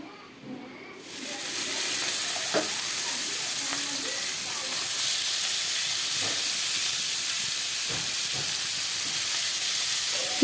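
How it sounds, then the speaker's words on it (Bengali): Small fish chorchori set on the heat in a pan, a steady broadband hiss and sizzle that starts after a quiet second and holds loud and even, with a few faint clicks of the pan. "দেখো এখানে ছোট মাছের চচড়িটা বসিয়ে দেওয়া হয়েছে"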